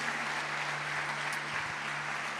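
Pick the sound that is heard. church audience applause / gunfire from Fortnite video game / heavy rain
church audience applause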